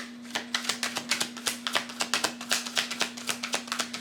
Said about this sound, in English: See how I'm shuffling these cards